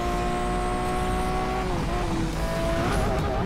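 A Lamborghini engine in a driving game drones loudly and steadily at high revs, its pitch wavering and climbing as the car leaves the ground and over-revs, with faint tire noise underneath.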